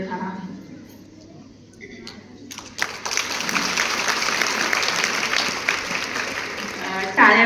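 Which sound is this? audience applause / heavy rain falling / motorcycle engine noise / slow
audience applause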